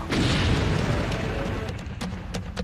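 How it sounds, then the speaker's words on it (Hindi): A Russian drone explodes near a national monument in Lviv, western Ukraine, with a broad, rumbling boom at the start that rolls and fades over a couple of seconds, with voices heard over the aftermath. "यूक्रेन के एक राष्ट्रीय स्मारक के पास पुतिन का ड्रोन फटा।"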